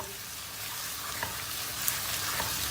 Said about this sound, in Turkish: İçine bir yemek kaşığı domates salça ilave ediyor. Güzelce bir kavuralım.